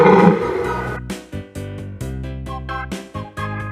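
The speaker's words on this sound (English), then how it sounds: "Bear." A bear gives a loud, close roar that breaks into a rapid series of throaty grunting pulses.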